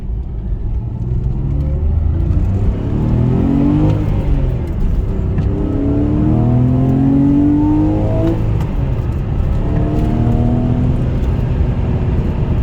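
A car driving and accelerating along a road past cyclists, its engine rising and falling through gear changes in a steady, loud rumble with revving sweeps, close up and without talk.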